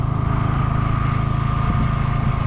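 A Honda Grom motorcycle engine chugs loudly and close up in first gear, a rough, rhythmic low idle-like pulsing with a faint clunk partway through.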